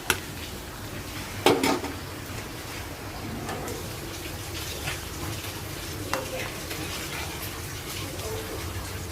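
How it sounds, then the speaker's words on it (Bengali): Onions fry for egg bhuna in a home kitchen, a low steady sizzle with a few sharp pot clatters and stirring knocks, and a voice speaking at times. "এদিকে ডিম ভোনার পেঁয়াজটা ভাজতেছি"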